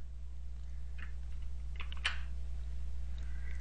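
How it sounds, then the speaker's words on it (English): Control B typed on a computer keyboard, a few faint light key clicks over a steady low electrical hum, quiet and close with no talking. "I'll type Control B to execute it."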